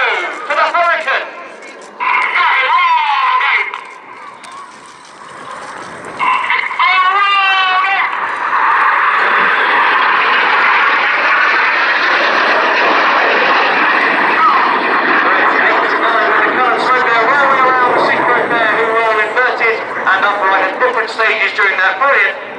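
Hawker Hurricane fighter performing a roll manoeuvre at the Shuttleworth Edwardian Pageant airshow, its piston engine droning continuously and loudly overhead with rising and falling pitch, while a commentator talks over the public address.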